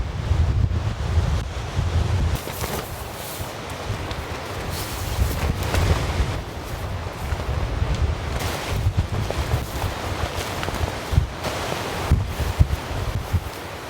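Strong wind buffets an exposed hilltop campsite during a storm, a steady loud roar with rumbling gusts hitting the microphone throughout and no voices.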